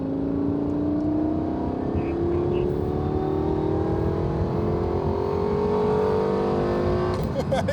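A Lexus LFA or Lamborghini Huracan STO engine revs up hard, its rising harmonic whine climbing steadily in pitch as the car accelerates, loud and continuous, with a brief sharp burst near the end.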